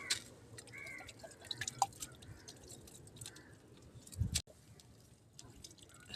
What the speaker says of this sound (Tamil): மிளகா செடி இது லைட்டாக இப்படி தெளிச்சே விடுவோம்.